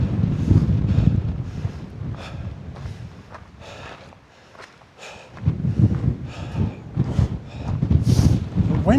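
Strong wind buffets the microphone on a mountain summit in the clouds, a loud broadband roar that rises and falls in gusts, easing briefly midway before surging back.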